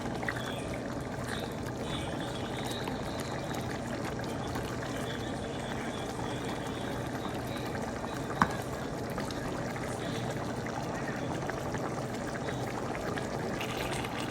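Chicken gravy simmering in a pot after about ten minutes of cooking, a steady low bubbling and hiss that runs evenly throughout, with one brief sharp click partway through.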